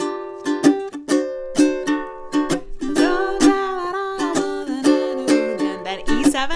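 Ukulele strumming the chords of a song, a steady rhythmic pattern of bright chord strokes with accented beats, played close and clear with no voice.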